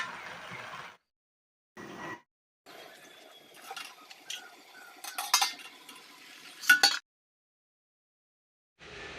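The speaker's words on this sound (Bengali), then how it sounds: "হলুদ গুঁড়ো, ছেঁড়া কাঁচা লঙ্কা দিয়ে এখন সুন্দর করে আমি মিশিয়ে নেব।" Bottle gourd and shol fish curry with turmeric and torn green chilies is stirred in a pan, giving close scraping and clinking of a utensil in short bursts separated by brief silent gaps.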